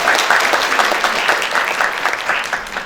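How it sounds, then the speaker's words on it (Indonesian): A lecture audience applauds a guest lecturer at a university social and political sciences faculty, steady dense clapping from a large room lasting the whole stretch with no voices over it. "Tepuk tangan yuk."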